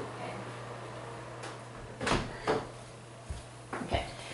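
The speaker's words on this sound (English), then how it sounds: "I'm going to close this door so I don't hear the fan" An indoor door is pushed shut, giving a few dull knocks and a latch click over a steady background hum of a running fan, with no voices.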